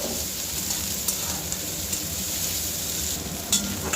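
Chopped onion and green chilli fry in a pan, a steady soft sizzle running throughout with a few light scrapes of stirring, all close and fairly even, with no talking.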